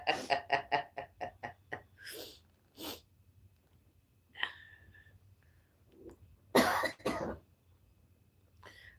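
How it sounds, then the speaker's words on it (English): A rapid run of about eight harsh coughs close up, followed by scattered throat-clearing, sniffs and a louder burst of coughing, with quiet gaps between. "you coughed and farted at the same time"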